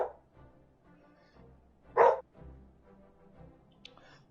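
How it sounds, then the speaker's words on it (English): A dog barks once in a short loud burst, with faint whimpering cries around it over a low background hum, indoors during a game session of Final Fantasy XIV. "My dog's been crying."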